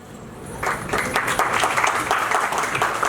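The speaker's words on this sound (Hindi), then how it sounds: "तालियां खूब बजनी चाहिए" An audience at the Educational Hub Awards 2025 ceremony breaks into applause, a dense wash of many hands clapping that swells after a brief lull and carries on steadily, fairly close and full.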